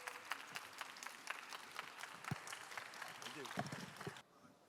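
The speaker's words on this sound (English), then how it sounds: "Ladies and gentlemen, please greet him with a big round of applause." At a Quebec–Seoul innovation session during the Try Everything 2024 event, an audience gives quiet, scattered applause with separate claps, a faint voice briefly sounding near the end before it cuts off.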